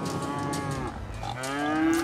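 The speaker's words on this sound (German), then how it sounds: "Hier, jetzt auf einmal gleich 1000 Kühe." Cattle moo in the city-building game Cities: Skylines, a long drawn-out low moo followed by another rising one, close and clear over soft farm ambience, with no talking.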